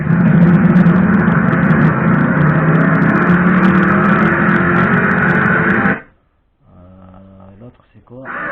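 A simulated short course truck engine from an ESS One sound module for an RC vehicle drones loudly and steadily for about six seconds, then cuts out abruptly, with a quieter burbling idle returning afterward.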